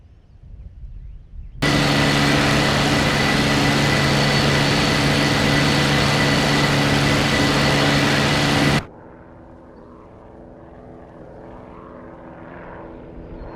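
A Messerschmitt BF-109 fighter's propeller engine roars in the IL-2 Sturmovik combat flight simulator, holding a loud steady drone for about seven seconds before cutting off abruptly into a quieter background hum.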